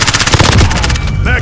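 Rapid automatic fire from a Bengal rifle in Call of Duty: Modern Warfare, a loud close burst of evenly spaced shots that breaks off near the end.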